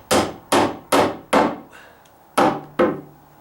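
A hammer drives nails into a metal joist hanger on a deck joist during a dry rot repair, six sharp, ringing strikes at a steady rhythm with a brief pause midway, close and loud with no talk.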